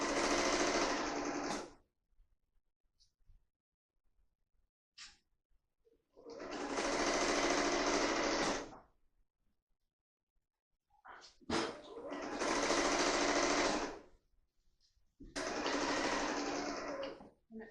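A sewing machine stitches a dress seam in four long, steady runs of whirring, separated by quiet pauses with faint handling sounds in between.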